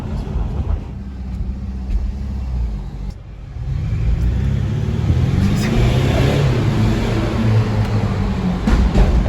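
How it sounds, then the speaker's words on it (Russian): A Mercedes GLC 220d diesel engine idles with a low rumble, then the revs climb and it roars steadily, loud and close, with no talking. "В целом звучит машина."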